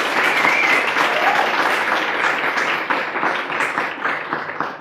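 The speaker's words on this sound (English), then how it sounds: "I think you deserve a round of applause for that" A live audience breaks into sustained applause, many people clapping in a dense, steady wash that stays loud before easing slightly toward the end.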